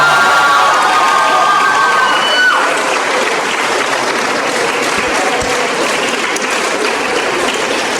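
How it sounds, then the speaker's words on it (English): Loud, sustained applause from a crowd at a school graduation ceremony, the class of 2023, with a few cheers mixed in, dense and close throughout. "Let's give them a round of applause."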